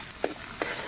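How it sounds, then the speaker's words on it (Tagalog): Garlic sautés in a pan with a steady, close, high sizzle, and two brief stirring scrapes are heard during the short moment. "Yung magigisa na tayo, bawang."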